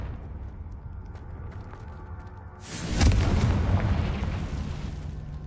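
Confringo fire spell exploding in the video game Hogwarts Legacy, a single loud, sudden boom after a low ambient bed, followed by a rumbling, crackling tail that slowly fades.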